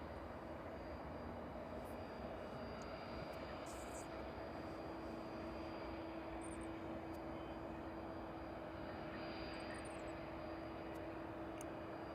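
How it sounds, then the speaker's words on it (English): A Learjet taxis off runway 27 at East Midlands Airport in the evening, heard as a steady, distant jet engine hum with a constant tonal whine that stays level throughout, without talk. "And that Learjet just vacating runway 27."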